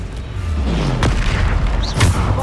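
Deep booming blasts of the Bombarda explosive spell in the Hogwarts Legacy video game, two loud impacts about a second apart over a continuous rumble.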